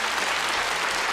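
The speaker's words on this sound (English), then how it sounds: "So a round of applause for our volunteers," Audience applause on the stage magic competition show Penn & Teller: Fool Us, a dense, steady wash of clapping from a large crowd that fills the whole moment with no voices over it.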